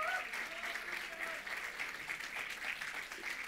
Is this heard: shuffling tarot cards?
no